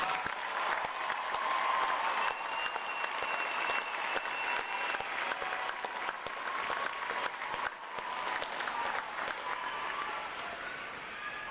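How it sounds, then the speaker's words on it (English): Audience clapping at a U.S. Navy boot camp graduation ceremony, a broad sustained wash of applause from a large crowd lasting throughout, fairly distant in a big hall, with faint crowd noise beneath. "Please join me in giving them a round of applause for their outstanding performance"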